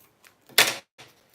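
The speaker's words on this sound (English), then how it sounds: "so I'll trim off this excess here" Scissors trimming excess material on a handmade creation give one crisp, close snip and a softer follow-up cut, brief and alone with no talk.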